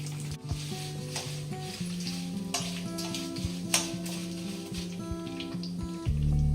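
Two spoons of black cumin seeds crackle and sizzle in hot oil, a steady close frying hiss with a low background hum and occasional stirring clinks.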